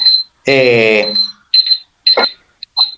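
Electronic alarm going off indoors during a debate, sounding loud, shrill beeps in short repeated bursts separated by silences, with a brief voice-like tone among them.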